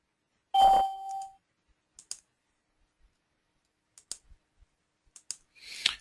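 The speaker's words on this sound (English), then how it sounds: "I'm going to click on the inside and the outside." Sparse, crisp computer mouse clicks during embroidery digitizing software work, single and paired taps spaced across the quiet, preceded by a brief electronic beep-like tone.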